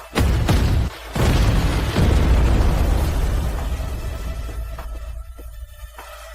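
Several heavy booming blasts in quick succession, then a long rumbling roar that slowly fades, like cannon fire and explosions.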